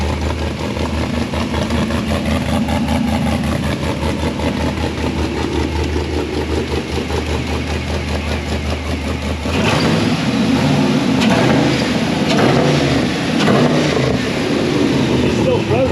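A four-seat rock bouncer off-road buggy's engine idles with a throaty, even burble up close, growing somewhat louder and rougher partway through.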